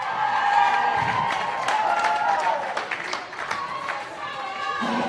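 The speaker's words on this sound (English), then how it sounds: "Crowd goes absolutely wild for the first try of the day for Samoa." A crowd at a women's rugby sevens pool match cheers wildly and applauds after Samoa's first try of the day, a steady dense roar with clapping, while a commentator talks over it.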